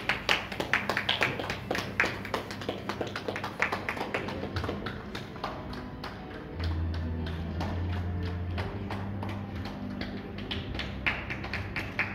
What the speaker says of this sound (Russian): А гости поддержат аплодисменты, пожалуйста.